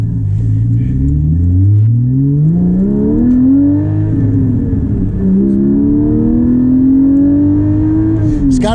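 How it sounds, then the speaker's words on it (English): A Porsche 718 Cayman GT4 with a manual gearbox revs through a turn, its engine note climbing, easing and rising again in a loud, close in-cabin drone while held in second gear, with no voices over it. "you can stay in second gear a lot and really rev it out"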